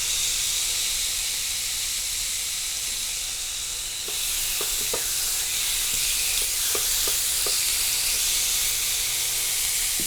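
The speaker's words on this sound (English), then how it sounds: "nice sizzle." Chicken sizzles on a Deik contact grill, pressed panini style: a loud, steady close hiss of frying with occasional small pops and crackles throughout.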